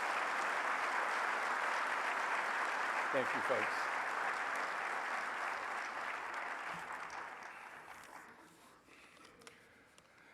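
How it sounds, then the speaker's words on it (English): Applause from a keynote audience at an EMS Today conference fills the hall with steady, dense clapping that gradually fades out, while a speaker's voice comes in briefly over it. "please give a nice round of applause for all these organizations"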